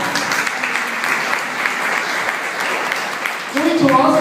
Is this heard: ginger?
no